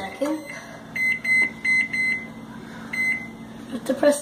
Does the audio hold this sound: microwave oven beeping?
yes